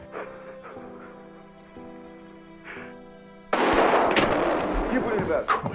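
Loud gunfire erupts abruptly after a stretch of tense droning music, a sharp blast followed by rough, crackling noise and further bursts.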